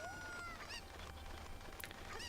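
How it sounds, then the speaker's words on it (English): Cucco chicken in the Zelda Ocarina of Time game, a few short honking clucks over quiet background music, faint and brief. "So yeah, there's chicken."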